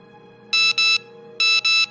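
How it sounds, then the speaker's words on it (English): A telephone rings in two double-burst electronic trills, loud and clear over a faint steady hum. "the phone rang"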